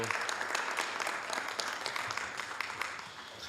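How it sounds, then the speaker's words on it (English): A city council chamber fills with a steady round of applause for newly welcomed commissioners, many hands clapping densely and fairly loud for the whole stretch before it starts to taper off. "let's give all the commissioners another great big round of applause and welcome aboard"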